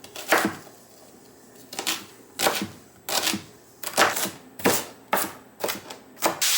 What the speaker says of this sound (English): I'm gonna go ahead and cut my pepper up here.